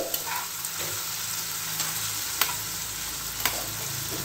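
Raw banana pieces frying in oil in a pan, a steady close hiss and sizzle with a few crisp pops and spatters, and no talking.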